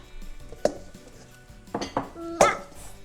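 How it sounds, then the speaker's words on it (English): Several clanks and scrapes of a utensil mashing boiled potatoes in a metal pot, irregular knocks a few times over a few seconds, close by with no talking. "While Aurora is mashing the potatoes"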